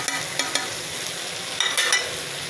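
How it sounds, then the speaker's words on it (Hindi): Shredded meat and fried eggs tumble into a hot pan and sizzle steadily, with a few sharp scrapes and clacks of a spoon stirring them, all close by and with no voices. "अब इसमें जो गोश्त हमने रेशे किए थे वो डाल देते हैं एक साइड से, और जो अंडे को फ्राई किए थे वो भी डाल देते हैं।"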